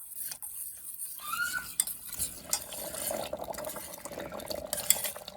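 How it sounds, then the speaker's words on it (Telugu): A spoon stirs onion potato curry in a pot as it thickens. Soft scraping and clinks of utensil on metal repeat close by over a faint simmering bubble, and there is no talk. "కొంచెం కలుపుకుంటూ చిక్కబడేంత వరకు ఉడికించుకోవాలి"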